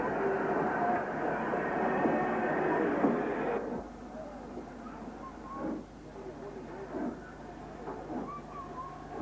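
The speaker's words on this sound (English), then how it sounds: "This Black 5 is seen shunting at Connell Ferry Station." LMS Black 5 steam locomotive shunting at Connel Ferry station, a steady rumbling rolling sound for the first few seconds that then drops to quieter clanks and hisses, heard alone at moderate distance.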